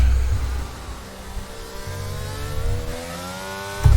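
A Mercedes-powered McLaren race car engine in a racing video game revs and accelerates, a steady loud mechanical drone that climbs in pitch through the gears, heard alone.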